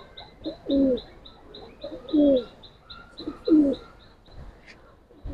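Silver gribaz pigeons coo nearby in three distinct, rhythmic low phrases spaced about a second and a half apart, over a steady background of faint high chirping.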